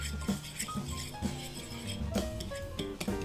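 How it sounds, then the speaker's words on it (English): A whisk or spoon stirs dry baking ingredients in a bowl for cake donuts, with repeated light clinks and scrapes against the bowl at a steady, close rhythm and no talking. "just give it a good stir, good whisk"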